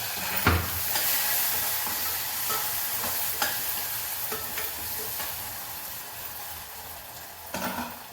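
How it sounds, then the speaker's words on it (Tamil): Onions fry and sizzle in hot oil in a pan, the start of a spinach chicken gravy. A steady close hiss runs throughout, with a few scraping stirs of a spoon. No one speaks. "வெங்காயம் கொஞ்சம் வணங்கட்டும்."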